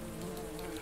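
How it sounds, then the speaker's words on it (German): Bees buzz around their beehive in a point-and-click adventure game, a steady low insect drone holding evenly throughout the short moment. "Die Bienen beschützen ihren Bienenstock"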